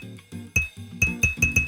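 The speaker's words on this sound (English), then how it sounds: "That sounds like a glass noise." Touched crystals in a video game give off a series of sharp glassy clinks, about five bright chiming hits with short ringing tails over a few soft tonal notes, and no talking.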